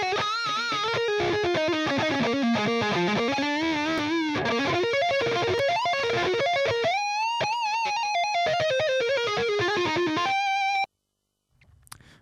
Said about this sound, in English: now let's come to the solo guitar or lead guitar